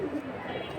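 Bagha breed pigeons coo in low, soft murmurs, close by, over a steady background hum, with no clear talk.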